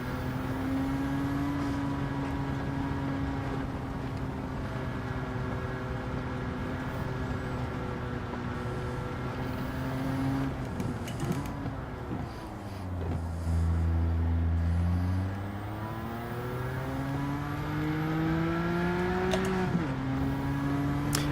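Racing car engine in Gran Turismo 7 after the Update 1.32 release, a steady high-pitched whine that holds, dips as the revs drop for a corner, then climbs again, loud and continuous with no talking.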